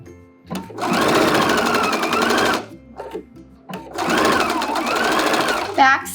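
A sewing machine stitches rib knit trim onto a garment cuff in two long, steady runs, loud and close. Brief pauses with small handling noises separate the runs.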